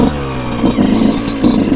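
Yamaha YZ 125 motorcycle engine downshifting under braking, a close, loud rough burble with short throttle blips and clattering pulses over under two seconds.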